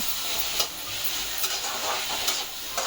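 Ingredients for biryani fry in a pan at home, a steady close sizzle with faint stirring scrapes and a few brief crackling bursts, no voices.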